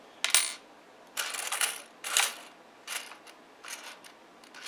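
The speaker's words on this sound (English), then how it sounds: "These are all new coins," Brand-new coins clatter and clink as they are handled and dropped, several bright metallic bursts spaced over a few seconds, close and fairly quiet with no talking.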